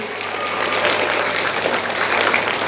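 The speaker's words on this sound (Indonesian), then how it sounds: "kasih tepuk tangan buat anak-anak kita" An audience at an Islamic religious lecture applauds children who have recited the Quran, dense steady clapping from a crowd lasting the whole moment without talk.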